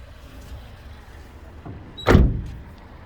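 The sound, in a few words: company van door being opened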